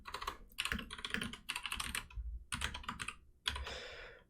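Fast typing on a computer keyboard, with dense bursts of key clicks separated by short pauses and a final heavier keystroke, close and clear with no talking.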